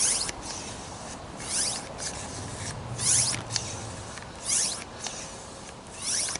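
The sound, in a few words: handheld pump inflating a basketball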